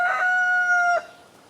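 A white rooster crows once, loud and close, a single sustained call that cuts off sharply, leaving faint background quiet.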